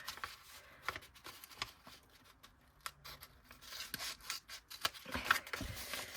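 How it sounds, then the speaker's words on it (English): Scissors snip and crunch through paper in a series of short, irregular cuts, close and fairly quiet, with light rustling between snips. "I'm gonna take my scissors and I'm gonna"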